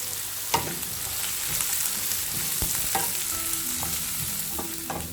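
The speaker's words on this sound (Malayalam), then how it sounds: "2 സവാള കട്ട് ചെയ്തത് ഇട്ട് കൊടുക്കുക." Chopped onions, cut into large pieces, sizzle and fry in a hot pan for a dhaba-style North Indian matar masala, with a steady close crackle and occasional stirring clinks, no talking.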